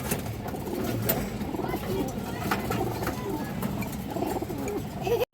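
A silver pigeon of an old line coos softly at a bird market, low repeated coos under steady talking and background bustle.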